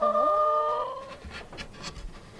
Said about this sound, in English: we're having a great time with these chickens